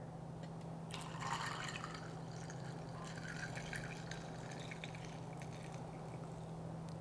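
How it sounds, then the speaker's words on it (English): Coconut water is poured over ice into a glass, a soft, steady trickle that runs the whole time at low level beneath a constant electrical hum. "we're going to fill the glass up just a bit with some coconut water"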